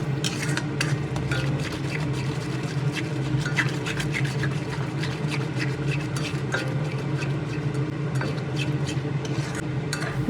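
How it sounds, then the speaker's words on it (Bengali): Spoon stirring powdered milk into a cooked spice masala in a pan, a steady run of faint scraping and clicking strokes against the metal with no talking. "এখন মশলার সঙ্গে গুঁড়ো দুধ খুব ভালোভাবে নেড়ে চেড়ে"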